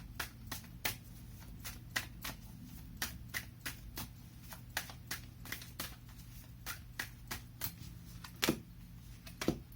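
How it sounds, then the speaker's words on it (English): Cards being shuffled and handled from an oracle deck, a steady run of crisp riffling snaps and flicks repeating close up throughout, with no talking. "Let me pull up a final tip from the universe card for you."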